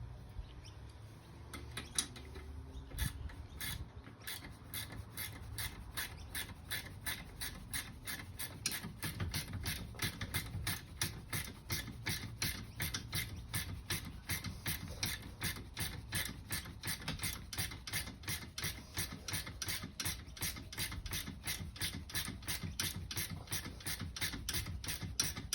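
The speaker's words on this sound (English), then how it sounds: "We made the suggestion before to get ratchet spanners. Definitely faster." Ratchet spanner clicking steadily while tightening the rear bolts of seats being installed in a Toyota Coaster bus conversion, a fast, continuous run of close metallic ticks with no talking.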